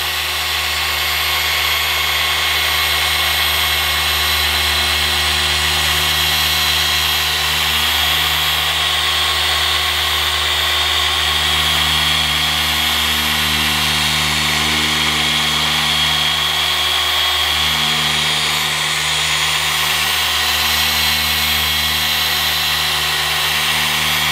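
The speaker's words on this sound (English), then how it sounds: "You want to make sure the backing plate is still spinning." A car polisher with its backing plate spinning on automotive paint while applying finishing polish gives a continuous, steady motor hum and whir with low buzzing harmonics, running without a break from start to finish.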